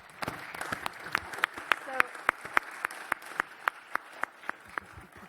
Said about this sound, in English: keep on standing up, because I'm sure you need this round of applause